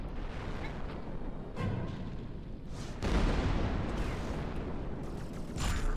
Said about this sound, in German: Die Schüsse sind so fucking laut